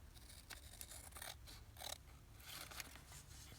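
Repeated snips of scissors cutting through paper, a few quick crisp cuts with soft rustling between them, close by.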